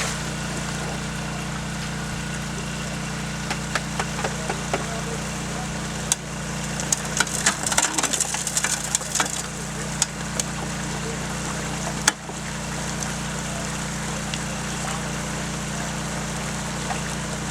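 Gold dredge with a suction nozzle running at a pond, a steady low engine drone over rushing water, with scattered clatter and knocks of gravel passing through mid-way, no talking.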